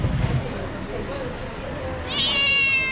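A stray beggar cat in Riohacha, Colombia meows close by, with a higher, clearer mewing call toward the end over a background of outdoor noise and a person talking.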